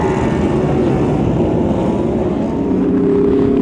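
A large group ride of more than a hundred motorcycles: a loud, steady, close engine roar with a dense low rumble that holds throughout, with no talk.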